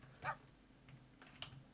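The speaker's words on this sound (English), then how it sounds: "They are definitely barking, so there must be wolves nearby." Faint, distant barks and yips from Minecraft wolves, a sharp one early and a couple of softer ones later, over quiet low background hum.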